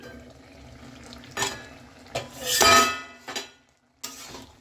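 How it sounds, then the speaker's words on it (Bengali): Lid lifted off a cooking pot of simmering vegetarian pumpkin curry: a few close metallic clanks and scrapes, one longer bright rattling clatter in the middle, then a final knock after a brief pause, with no talk. "তরকারিটার ঢাকনাটা এবার আমি খুলে দেখতেছি তরকারিটা আমার হয়ে গেছে কিনা"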